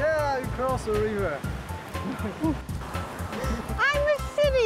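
River water rushes steadily close by in a wilderness setting near Wulai, Taiwan, a constant broadband wash heard beneath people talking throughout.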